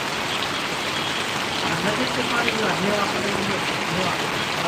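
Rain falls steadily on a village in Paravadi, Gariyadhar taluka, a soft continuous hiss at moderate level, with a voice murmuring faintly beneath it.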